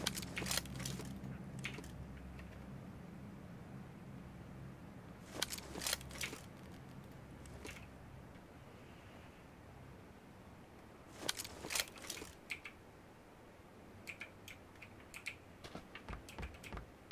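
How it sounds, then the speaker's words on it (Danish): Keys on a mechanical keyboard clack in quick bursts of typing, faint and fairly close, separated by quiet stretches with scattered single presses. "Mekanisk tastatur du har, Helge."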